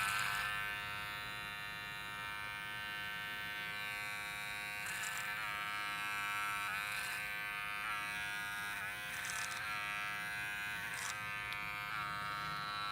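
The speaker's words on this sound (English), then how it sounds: "I think clipper over comb is personally a debulking technique." Electric hair clippers work clipper-over-comb during a boy's haircut, giving a steady close buzz with a few brief bursts as the blades bite through hair, and no voices.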